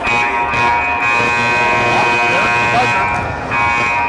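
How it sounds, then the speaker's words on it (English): A loud, sustained game-start buzzer drones steadily through an echoing gym at a staff-versus-graduates basketball game, with crowd noise and voices underneath. "that buzzer tells us that it is time to get this game going"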